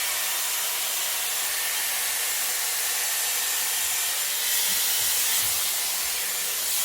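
Hair dryer blowing a constant airy roar while drying straight hair, steady and close for the whole stretch, with no voices.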